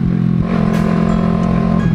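A Honda CBR250RR motorcycle with an aftermarket M4 exhaust runs loud and close, its engine droning in a steady, buzzy rumble with slight wavering revs throughout.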